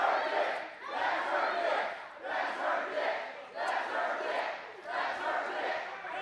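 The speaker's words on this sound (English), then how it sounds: "Listen to this crowd." Loud crowd at a JCW wrestling event in Little Rock shouting and chanting in rhythmic surges, swelling and dipping roughly every second or so, close and continuous.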